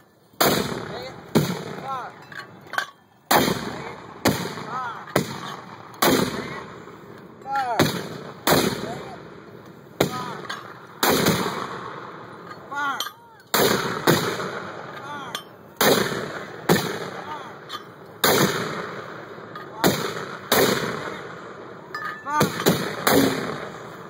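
Mortar rounds fired in quick succession by a mortar team, roughly twenty sharp booming blasts in a fast irregular rhythm, each cut off abruptly, with brief shouts between.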